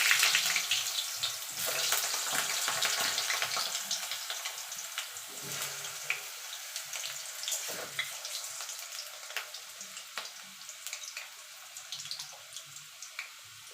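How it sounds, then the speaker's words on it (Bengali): Potatoes fry in hot mustard oil in a wok, giving a constant close bubbling hiss with scattered sharp crackles and pops that thin out gradually, with no one speaking. "তেলটা গরম হয়ে গেছে। আলুটা প্রথমে ভেজে নেব।"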